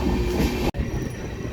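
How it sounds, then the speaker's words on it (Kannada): A train rumbles steadily at Kasaragod railway station, a loud, close wash of wheel and carriage noise with a brief cut partway through, and no voices. "Kasaragod railway station."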